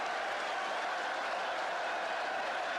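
Chelsea supporters in a packed football stadium during a 1972/73 league match against Manchester United applaud after a goal, a steady, distant wash of clapping and crowd roar with no break.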